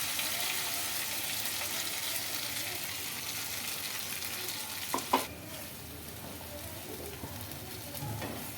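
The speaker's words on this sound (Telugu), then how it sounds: "ఈ మసాలా అనేది కొంచెం ఆయిల్లో బాగా ఉడకాలండి" Masala paste of blended spices with bay leaf and green chilli frying in a little oil for chicken gravy, a soft steady sizzle with occasional stirring scrapes and a couple of sharper clinks.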